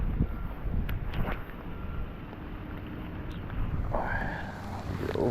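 Wind blows steadily across the microphone while fishing from a boat on a pond for bass. A continuous low rumbling buffet lasts the whole time, with faint water and gear sounds beneath.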